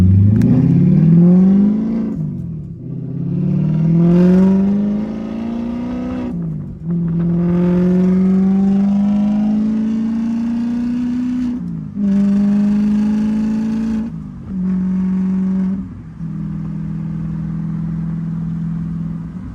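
An Audi with its ABS module disconnected does a burnout, the engine revving hard in a series of long rising pulls with brief drops between them, loud and close with no talk.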